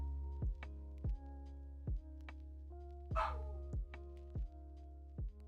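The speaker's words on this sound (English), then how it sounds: "You guys can hear the dog." A dog barking in short, sharp yaps at a fairly even rhythm, about eight barks, moderately distant and heard through background noise during a livestream, with no speech over them.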